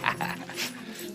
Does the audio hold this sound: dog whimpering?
yes